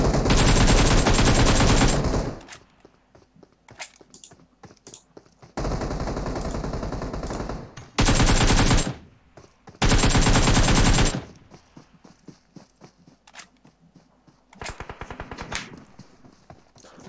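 Loud automatic gunfire bursts from the battle royale game PUBG, four sustained volleys of rapid shots separated by quieter stretches of distant footsteps and faint ambient noise.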